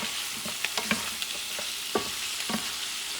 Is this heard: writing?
no